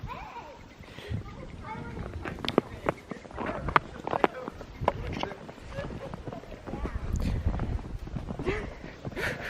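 A horse plods through fresh snow during a rare freeze in San Antonio, its hooves making soft, irregular thuds close by while people talk and exclaim over it.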